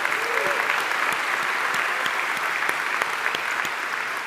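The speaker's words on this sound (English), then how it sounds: "Give them a round of applause." A packed audience at the Fort Worth State of the City 2023 address breaks into sustained, steady applause, a dense wash of many hands clapping with no speech on top.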